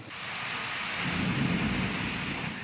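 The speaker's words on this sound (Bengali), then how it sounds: "এ সময় বজ্রপাতের শব্দে কেঁপে ওঠে চারপাশ" Thunder rolls through a night rainstorm over Dhaka, a deep rumble swelling over steady pouring rain and peaking midway before easing, close and loud with no talking.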